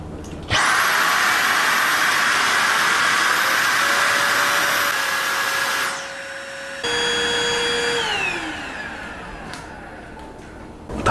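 Dyson V8 and Dibea D18 cordless vacuum cleaners running together in max mode, a loud steady high-pitched whine and airy roar; one motor cuts out partway, then the remaining whine winds down in pitch.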